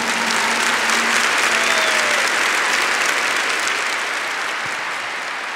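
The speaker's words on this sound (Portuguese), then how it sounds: "Give the Lord a big clap for that." A church congregation applauds loudly and steadily, a dense wash of clapping that carries on throughout and eases slightly toward the end.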